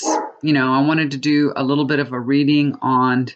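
A pet dog barks in a few short bursts indoors, mixed in with a person talking over it.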